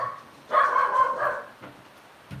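A dog barks at children playing nearby, giving a single loud, drawn-out bark followed by a couple of faint yips, close to the microphone.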